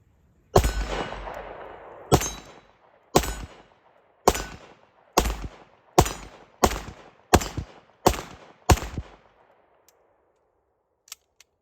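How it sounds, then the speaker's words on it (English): Ten sharp, loud 9mm pistol shots from a full-size Tisas Duty 1911 handgun ring out at a steady, unhurried pace, each cracking report trailing off in a brief echo. Two faint metallic clicks follow, and no one speaks. "Second 10 rounds fired through this handgun."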